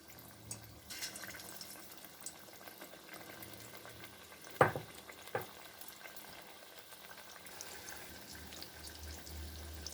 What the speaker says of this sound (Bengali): বড়াটা তেল ছিটকাতে পারে